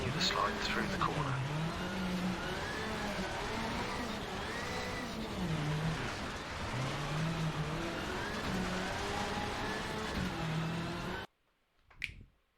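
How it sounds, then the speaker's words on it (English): Rally car in Richard Burns Rally power sliding through a corner marked by blue cones on a rally school course, engine roaring steadily near and loud with revs rising and dipping, then cutting abruptly to near silence with a brief click. "When you reach the blue cones, initiate the power slide. Use the throttle and steering to continue the slide through the corner."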